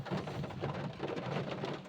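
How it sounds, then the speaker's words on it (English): Heavy rain pelts a car at night during a thunderstorm near Torres, Pieve d'Alpago, Belluno, with a dense steady drumming on the roof and glass and low rumbles of thunder rolling beneath, all fairly faint and enclosed. "It's starting to rain a bit more heavily. There's been lots of lightning and thunder."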